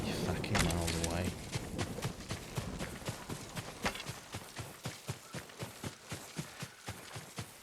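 A horse gallops in Ghost of Tsushima, its hoofbeats a steady, fairly close rhythm of thuds that follows a brief burst of other game sound at the start.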